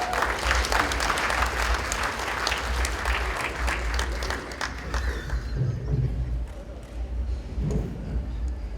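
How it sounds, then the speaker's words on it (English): Applause at the Haitian Community Partners Gala 2023 in Boston, a crowd clapping loudly and densely before the sound eases off into scattered claps and faint murmuring. "let us give the absent superintendent a hand clap"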